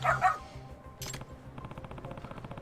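A dog in the detective game Lost Judgment gives a short, sharp bark, then a single clipped sound, then a run of quick, rhythmic sniffing. Everything is faint and close.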